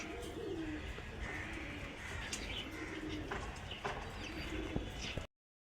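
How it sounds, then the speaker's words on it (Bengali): Pigeons coo softly in low, rolling calls repeated every few seconds over a steady background hiss, with occasional faint chirps. "আপনারা শুধু কবুতরটা দেখেন"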